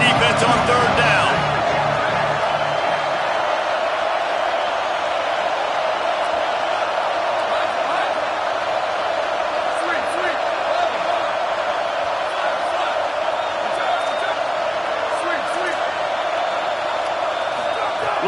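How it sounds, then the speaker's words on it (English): A football stadium crowd roars steadily behind the defense on a third down during Oregon vs USC, a sustained, loud wash of cheering and whooping that holds throughout without letting up. "Decibels rising as the crowd gets behind this defense on third down"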